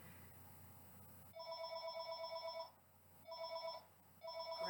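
A mobile phone rings in a quiet room, its electronic ringtone sounding in three bursts separated by short pauses, faint and alone.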